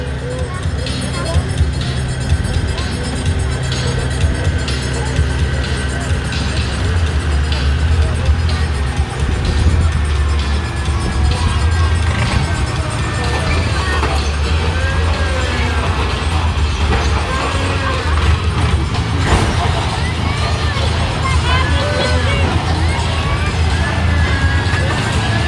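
The Rotos, an enormous articulated-chassis monster vehicle at an outdoor stunt show in Angoulême, roars steadily as it drives over car bodies, with metal crunching and crowd hubbub under loud announcer talk throughout.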